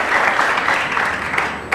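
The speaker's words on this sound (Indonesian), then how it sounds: "Tepuk tangan" Studio audience on an Indonesian TV talk show claps in a dense, steady round of applause, loud and close, with no talking over it.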